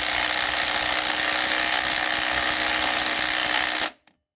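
An impact wrench runs on a Jeep 4.0 harmonic balancer bolt, one loud continuous buzzing whir close by for nearly four seconds before cutting off abruptly.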